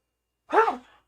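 A single short sneeze bursts out close by, soft and breathy, during a tabletop role-playing podcast session.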